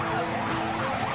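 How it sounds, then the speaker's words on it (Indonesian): A tactical vehicle's siren wails steadily along a street after an attack, loud and close, with road rumble underneath and no voices. "Kendaraan taktis dengan sirine menyala,"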